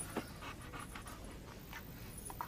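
A dog pants and sniffs steadily at close range while searching for a scent, with short breathy bursts repeating over a low background hum and no talk.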